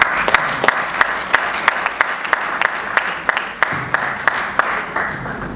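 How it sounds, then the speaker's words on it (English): Audience applause at a Nigerian e-government summit panel session on connectivity, honoring the panel members: a steady wash of many hands clapping, fairly close and even, with sharp individual claps standing out through the roar. "give a round of applause again to the members of the panel"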